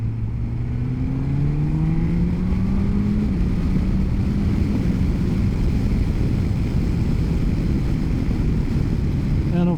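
A Suzuki GSX-S1000GX motorcycle engine drones steadily while riding, its pitch climbing through the gears under heavy wind rush at close range.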